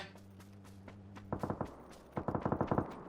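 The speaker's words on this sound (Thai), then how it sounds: "ตามเสียงปืนเลย" Gunfire in PUBG, starting with a quiet game backdrop and then two rapid bursts of automatic fire, the second longer, heard moderately close.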